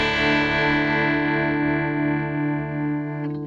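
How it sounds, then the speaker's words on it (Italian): Guitar chord through a Fractal Audio Axe FX III panner effect set very low, ringing out loud and sustained with only a faint, slow wobble before being cut off. "sentite che abbiamo soltanto una leggerissima oscillazione"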